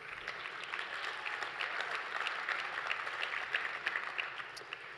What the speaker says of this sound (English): Yeah, go ahead, clap, that's fine.